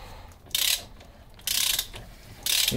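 A socket ratchet winding a greased suspension nut on a V12 supercar being restored, heard as three short, loud bursts of rapid pawl clicking separated by brief pauses.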